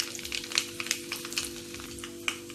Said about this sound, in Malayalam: ഇതിലേക്ക് നമുക്കൊരു 3 വറ്റൽമുളകും കൂടി ഇട്ട് കൊടുക്കാം.